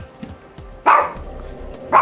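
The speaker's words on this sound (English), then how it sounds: "Guard dogs, hard at work." Guard dogs barking in two loud, close bursts, the first a cluster of sharp barks and the second starting just before the end, with quiet moments between them.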